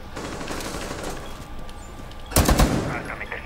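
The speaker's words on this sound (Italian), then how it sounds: "Vedo tanti spari." Rapid gunfire from the tactical shooter game Rainbow Six Siege rattles through a dense mix of game noise, with a louder burst of shots about two-thirds of the way in.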